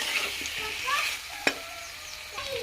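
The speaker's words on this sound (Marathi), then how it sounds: "त्यानंतर उकडलेली केळी घालायची आहेत आणि मसाल्यामध्ये व्यवस्थित परतून घ्यायची आहे" Boiled raw bananas being stirred and sautéed in a sizzling masala in a pan, a steady frying crackle with spoon scrapes and one sharp clack near the middle, close and clear, no talking.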